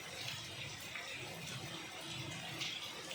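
Heavy rain falling outdoors on a road, a steady dense wash of water noise throughout, with faint voices in the background.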